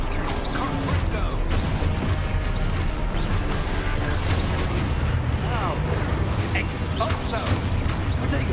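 Spell blasts in the Hogwarts Legacy video game, including a Confringo fire spell, with a dense, continuous wash of crashing, booming impacts and sparkling effects under battle noise and shouted incantations.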